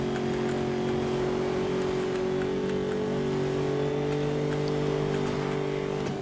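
A car in Need for Speed: Most Wanted accelerates with a steady, loud engine drone whose tone rises slowly, heard alone without speech for several seconds.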